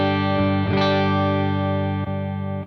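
An electric guitar chord sustains through a Quad Cortex capture, a thick distorted tone ringing steadily with a couple of brief pick or string accents, close and loud, no talking.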